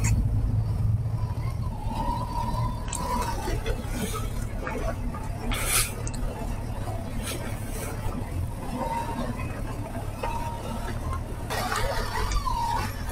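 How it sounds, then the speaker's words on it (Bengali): Classic British-era Land Rovers pass one after another on a hill road entering Maneybhanjang town, a steady low engine rumble rising and falling as one goes by and another approaches, with faint voices in the background. "যে মেন গাড়িগুলো এই যাচ্ছে, একটা চলে গেল, একটা আসছে।"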